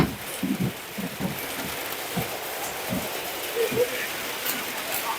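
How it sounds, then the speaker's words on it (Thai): Rain falling on a roof during a storm, a steady close patter and hiss filling the whole stretch, with scattered heavier drops and muffled voices in the background. "ฝนตกทุกท่านเลย"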